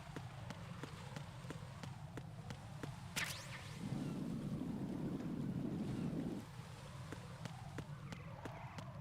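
Water and surf noise from the video game Metal Gear Solid 2 form a steady wash with regular ticking, swelling into a louder rushing surge in the middle, with no voices.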